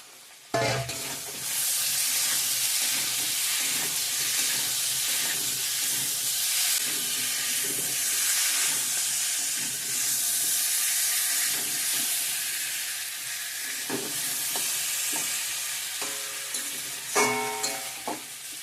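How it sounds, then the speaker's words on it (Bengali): Potatoes and sliced tomatoes frying together in a pan, a loud steady sizzle and hiss running throughout with occasional scraping stirs, heaviest toward the end. "আলুগুলো ভালো করে ভেজে নিয়েছি টমেটোগুলো দিয়ে দেবো এখন"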